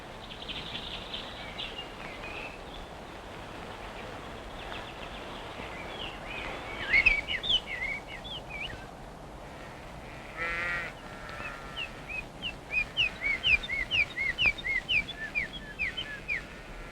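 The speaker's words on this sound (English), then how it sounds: "early mornings, to hear the birds singing as you were coming to work." Birds calling in countryside woods on a spring morning, a harsh crow-like caw near the middle, then a run of repeated chirping calls toward the end over a soft steady outdoor background.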